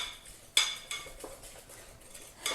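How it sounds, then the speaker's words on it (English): A utensil stirs sugar into a chess pie filling in a bowl, with soft scraping and several sharp clinks of metal against the dish, close and quiet. "And I'm going to mix this really well."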